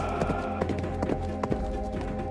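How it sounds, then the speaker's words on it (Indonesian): Horse galloping at speed as its rider spurs it on, quick rhythmic hoofbeats thudding under a dense, loud dramatic backdrop, no talk. "Dengan penuh ambisi, Surakoh memacu kembali kudanya."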